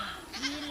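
Goats grazing in a rice paddy field let out a short, nasal bleat, close and clear with a little background hum.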